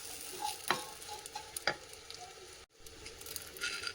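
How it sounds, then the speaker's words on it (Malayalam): Grated coconut dry roasts with black pepper and curry leaves in a pan without oil for a South Kerala cashew nut kuruma, giving a faint, steady sizzle with a few scraping stirs of a spoon. "തേങ്ങ വറുക്കുമ്പോൾ ഒട്ടും എണ്ണ ചേർക്കാതെ വേണം വറുത്തെടുക്കാൻ."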